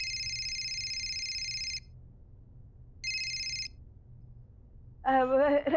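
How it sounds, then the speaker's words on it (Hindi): An incoming call sets a telephone ringing in a Hindi TV drama scene, two clear electronic ring bursts separated by a pause, followed by a short voice at the end. "राम भाई साहब का फोन आ रहा है।"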